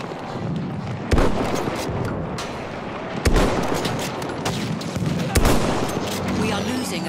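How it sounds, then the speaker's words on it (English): Sustained gunfire from a Battlefield 1 firefight on the Zeebrugge map, with several louder bursts standing out over a dense, continuous battle din and players talking throughout. "I'm looking at a machine gun! Machine gun! One of theirs!"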